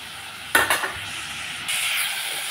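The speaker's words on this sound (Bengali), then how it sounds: "মশলার সাথে ফুলকপি আলু টমেটো কষিয়ে নিলাম।" Cauliflower, potato and tomato fry with spices in a pan while being cooked down for a fish curry. A few sharp spoon scrapes come early, over a steady close sizzle that brightens toward the end, with no talking.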